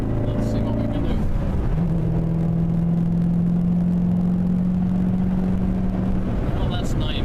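A 2014 Corvette in track mode accelerates hard up a highway entry ramp, its engine a loud, steady drone from inside the cabin that climbs slightly in pitch and holds for several seconds.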